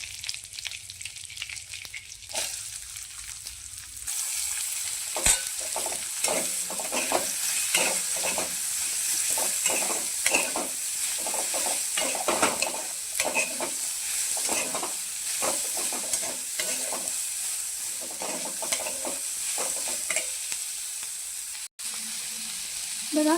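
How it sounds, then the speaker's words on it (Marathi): Onions frying and being stirred in a kadhai of hot oil for a restaurant-style kaju paneer curry: steady close sizzle with repeated scraping strokes of the spoon, continuous for about twenty seconds. "तर याच कढईमध्ये आपण कांदा फ्राय करून घेऊया."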